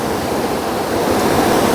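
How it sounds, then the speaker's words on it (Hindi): A mountain river rushing loudly close by on the route from Gangotri to Kedarnath, a dense, constant roar of flowing water that swells slightly toward the end, with no voices. "नदी चल रही है बराबर में, कुछ सुनने ही नहीं दे रही।"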